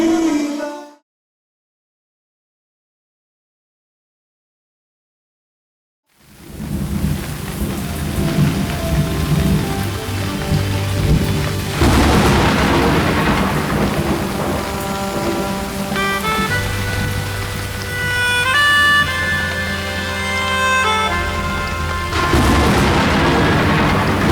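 Heavy rain pours steadily in a thunderstorm with rolling thunder, loud and continuous after a brief silent gap, with musical tones rising over the downpour.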